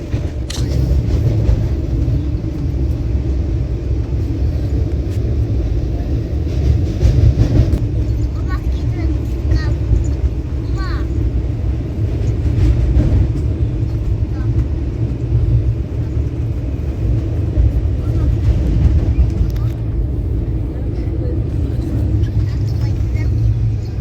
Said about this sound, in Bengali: ট্রেনের ট্র্যাক সাউন্ডের সাথে সানরাইজের অপরূপ দৃশ্য আপনারা উপভোগ করতে থাকুন